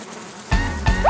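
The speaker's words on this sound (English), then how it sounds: "9 bees." Bees buzz in a short cartoon-like burst of rising and falling drones, close and fairly loud, lasting only about a second in a children's counting song setting.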